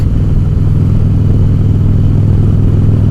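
A Harley-Davidson Sportster motorcycle rides at steady speed, its loud engine droning close and constant with a low, rumbling throb and rushing wind noise, no voices.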